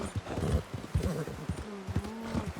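A horse's hooves clip-clop along in the video game Red Dead Redemption 2, an uneven run of close, muffled thuds, partly overlapped by someone talking.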